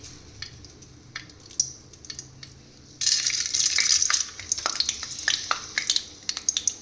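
Peanuts and chana dal drop into hot oil, setting off a sudden bright, crackling sizzle that jumps from quiet background to loud and stays busy with popping bursts, close up.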